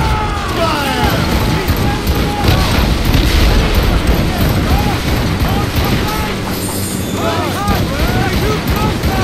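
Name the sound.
ship cannon fire in video game Assassin's Creed Rogue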